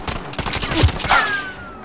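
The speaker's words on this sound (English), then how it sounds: "What did he have that he was shooting you with?" Bursts of enemy gunfire from a hostile shooter in a video game, a loud rapid volley cracking close by with a second flurry trailing off.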